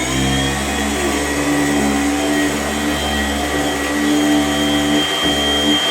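A vacuum cleaner runs on carpet with a loud, steady motor drone whose pitch wavers slightly, dipping briefly near the end.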